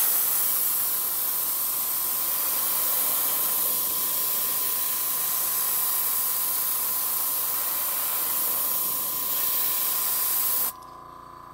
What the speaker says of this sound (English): Do a nice even strokes as I paint this, just like you would with, you know, any other rattle can or spray gun.